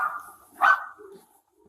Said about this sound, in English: The sound of barking from Pixel, the family dog, was the only noise from within the house.